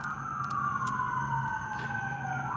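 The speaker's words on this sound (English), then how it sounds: "Anytime you get ambulance or fire truck, the whole valley echoes" An ambulance or fire truck siren echoes across a valley, a long slow wail rising and falling at moderate distance, with faint clicks and background rumble and no voices.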